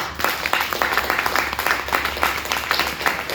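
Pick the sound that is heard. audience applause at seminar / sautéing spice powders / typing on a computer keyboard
audience applause at seminar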